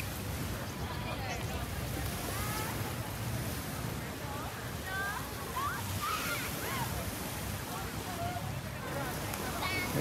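Steady surf washes ashore on Boracay White Beach at Station 1 in the afternoon near high tide, with a constant wash and wind noise and distant voices and faint calls mixed in.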